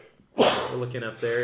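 One abrupt, forceful sneeze bursts out, and people go on talking right after it.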